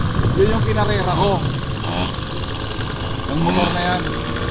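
A motorcycle engine idles with a steady low rumble throughout in Batha, Riyadh, while people talk over it close by.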